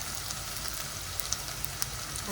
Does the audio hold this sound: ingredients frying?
yes